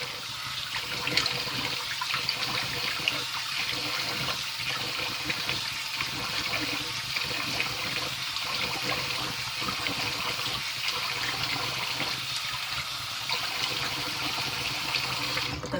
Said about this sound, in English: I am going to rinse my face off